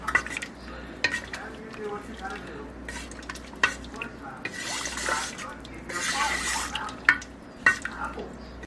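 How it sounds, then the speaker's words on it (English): Peas being stirred into a pot of chicken and dumplings, a utensil scraping and clinking against the pot with wet, soft stirring sounds in uneven bursts, close by. "We'll give us a good stir."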